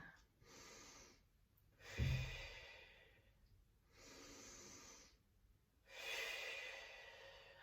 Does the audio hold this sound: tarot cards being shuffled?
no